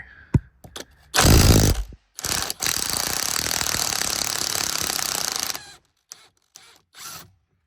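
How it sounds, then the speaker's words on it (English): A 3/8 impact wrench removes a T50 steering wheel bolt in a Raptor R, a loud, steady rattling hammer burst running about three seconds after a short first burst, with scattered clicks and handling noises before and after. "I'll use an impact, and then the wheel should come right off."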